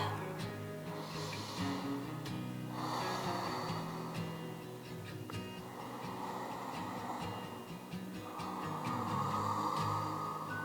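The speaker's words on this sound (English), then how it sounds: "Let's give it 3 to 5 deep breaths." Slow, deep breaths during a slow-flow yoga pose: several long, audible inhales and exhales come in steady waves, close and soft, with no talking.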